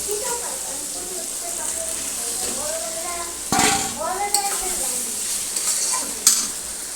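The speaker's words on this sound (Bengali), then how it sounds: "আলু টমেটোটা ভাজা হয়ে গেছে এবার আমি আলুটা দিয়ে দেবো" Diced potatoes are tipped into a pan of frying tomatoes, giving a sudden clatter and a burst of louder sizzling over a steady background fry, followed by stirring scrapes, with a faint voice murmuring.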